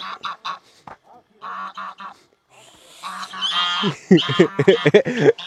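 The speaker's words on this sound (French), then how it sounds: "Il a peur des oies." Geese brooding eggs at a tourist lodging in Morocco give bursts of loud, harsh honking. The honks come in quick clusters, close by, sometimes mixed with a person's voice.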